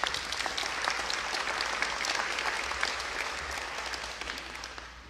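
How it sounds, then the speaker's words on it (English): Audience applause for a Medicaid work group at a governor's event in Illinois, a steady, dense round of clapping from a crowd that holds for about five seconds before easing slightly at the end. "Can we give the Medicaid work group a round of applause?"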